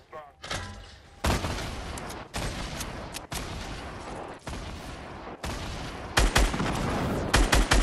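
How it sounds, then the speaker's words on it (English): Bursts of gunfire and blasts from Fortnite Battle Royale, sharp repeated shots across a busy fight, with voice chat talking underneath. "Shooting C4s at me."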